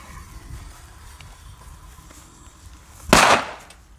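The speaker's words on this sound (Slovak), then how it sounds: "Takže začíname s úplne najslabšou petardou alebo s takou prvou petardou Devil." A Devil firecracker, a small and weak petard, goes off with a single loud, sharp bang near the end after a few seconds of quiet background rumble.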